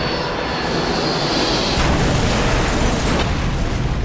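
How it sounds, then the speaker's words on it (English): A Korean Air Boeing 747 cargo jet crashes into a forest at Great Hallingbury, producing a loud, sustained roar and rumbling explosion that fills the whole stretch with no talk. "747 slams into a forest in the village of Great Hallingbury"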